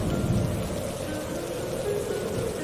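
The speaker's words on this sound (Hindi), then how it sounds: "तेज हवाएं भी चल रही है, बिजली भी कड़क रही है" Cartoon storm effect for a crow's tale: steady hiss of heavy rain with low rumbling thunder beneath, continuous and fairly loud throughout.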